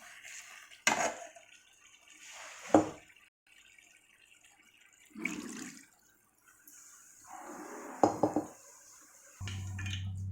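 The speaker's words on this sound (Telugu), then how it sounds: "ఒకసారి కలుపుకొని ఇప్పుడు వాటర్ పోసుకోవాలి" Water is poured into chicken curry cooking in a pan, heard as a few short, separate splashing bursts with faint utensil clatter between quiet gaps and a low hum at the end.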